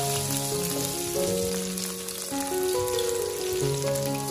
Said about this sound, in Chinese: 油热之后先把生姜倒下去炒香